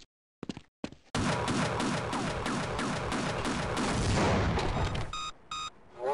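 Rapid gunfire from a weapon in the video game Half-Life, a few sharp isolated shots then a dense continuous burst of loud repeated shots lasting several seconds, ending in short electronic beeping tones.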